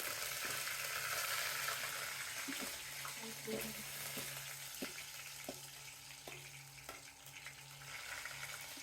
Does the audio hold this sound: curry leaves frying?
yes